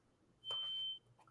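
A single smoke alarm beep, a sharp high electronic tone lasting about half a second, fairly faint and distant against quiet background noise.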